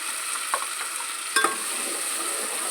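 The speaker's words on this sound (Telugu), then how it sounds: "బాగా ఫ్రై చేసుకోవాలండి ఇది మసాలా" Masala for a mutton recipe fries steadily in a hot pan, giving a continuous soft sizzle with a couple of brief scraping stirs, heard up close and alone.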